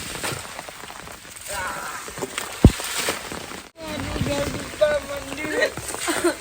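Heavy monsoon rain pours steadily onto an open farm field beside a broken check dam, a continuous broadband wash with scattered louder drops and a brief sharp knock near the middle, while people talk in the background.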